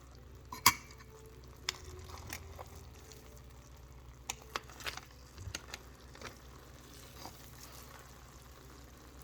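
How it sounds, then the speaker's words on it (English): Cooked goat biryani in a pot is stirred with scattered soft scrapes and knocks, one sharp clink near the start, quiet and close with no talk. "Just give it a good stir and plate it out."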